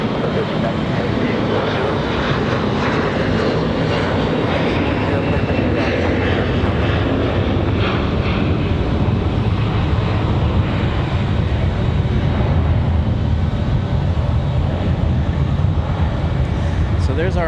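An American airliner departs for Miami under a sustained, loud jet-engine roar, the sound holding broad and steady as it climbs, with wind buffeting the microphone at an airport spotting site.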